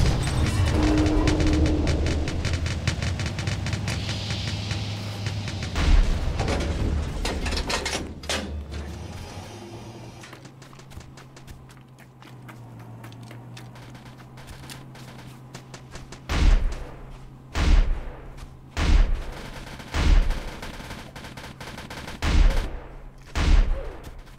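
Shotgun fire in the Roblox game Polybattle: a dense, loud burst of overlapping gunfire and booms early on, then a run of six evenly spaced, heavy single shotgun blasts near and alone toward the end.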